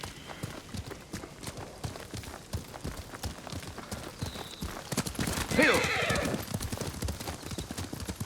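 A horse gallops in Ghost of Tsushima, its rapid clip-clop hoofbeats running steadily under spoken dialogue, with a loud whinny rising midway.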